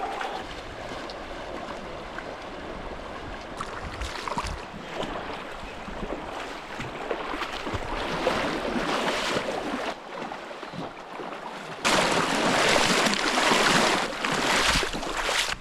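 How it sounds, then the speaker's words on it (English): Rushing river water while wading across a fuller-than-usual wilderness river in New Zealand, a continuous broadband wash with wind buffeting the microphone that swells louder near the end, no talking. "It's time to cross the river now for the first time."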